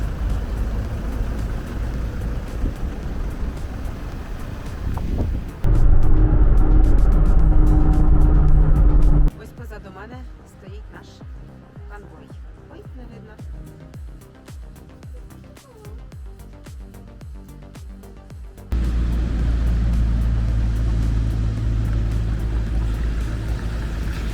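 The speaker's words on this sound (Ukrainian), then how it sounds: "Ось це наша колона, яка їде" A convoy of military aid vehicles driving along a road toward the east: steady engine and road rumble whose level shifts between loud and quieter passages, with voices talking over parts of it.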